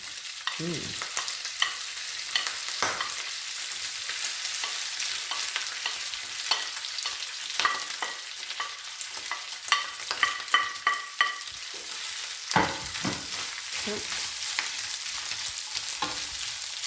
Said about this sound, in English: So now the lard is melted, so we add the meat.